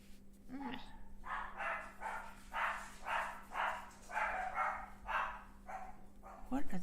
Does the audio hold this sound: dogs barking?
yes